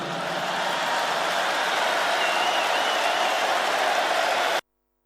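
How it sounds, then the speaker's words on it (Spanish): An audience applauds in a steady, dense wash of clapping at moderate volume that cuts off abruptly near the end. "allí cosechó aplausos"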